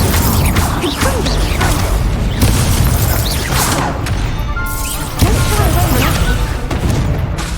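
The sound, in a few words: Confringo blasting spell, from the video game Hogwarts Legacy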